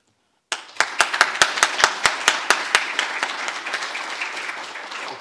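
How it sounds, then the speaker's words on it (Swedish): Warm applause for a chairman at a formal lecture event begins abruptly from silence, with a few loud, distinct claps up front that quickly blend into a dense, sustained round of clapping. "preses med en varm applåd."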